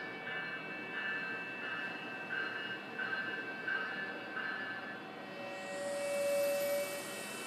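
A GO Transit train hauled by MPI MP40PH-3C locomotives rolls past at Bronte with a steady rumbling drone and a faint pulsing clatter, swelling slightly louder near the end.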